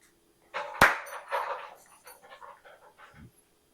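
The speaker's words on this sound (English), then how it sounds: "if you heard a clap in the background" A single sharp hand clap indoors to shoo a cat away from a diaper cake, sudden and loud, followed by a dog panting and faint background sounds.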